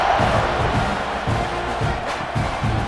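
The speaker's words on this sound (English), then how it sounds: "You think this crowd's going to get loud when their defense comes on the field?" A packed stadium crowd in EA Sports College Football 26 for Arizona State versus Texas A&M, a loud continuous roar of cheering and shouting that holds steady throughout with no clear breaks.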